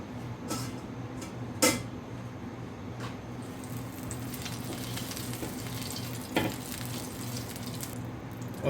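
Chicken with spiced yogurt sizzles on a hot tawa as a steady, moderate frying hiss, broken by a few sharp clinks of a utensil.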